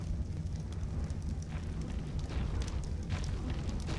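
Dragon's fire attack roaring in Ark: Survival Evolved, a steady dense whoosh with low rumbling, continuous and fairly loud throughout with faint crackles, no talking.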